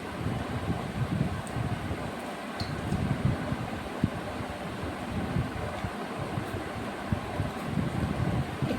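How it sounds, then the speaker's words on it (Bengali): Steady outdoor wind with a soft, continuous rushing wash that may hold light, gentle rain, at a constant moderate level with no voices. "আবার হাওয়া হচ্ছে, বৃষ্টি হচ্ছে জোরে না, আস্তে আস্তে"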